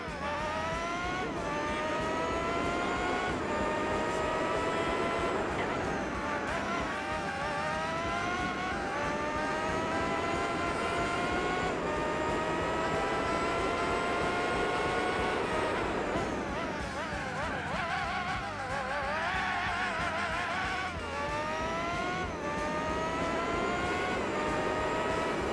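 Formula GT race car engine in Gran Turismo 4, loud and continuous, with high revs climbing and dropping through repeated gear shifts and a busier stretch of revving near the end, with no talk.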